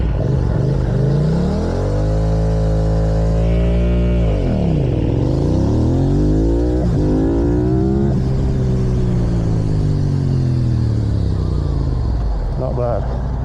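A Yamaha R7 sport bike revs hard and launches in race start practice, the engine note climbing, dipping and rising again through repeated surges, loud and close throughout with a voice talking over it.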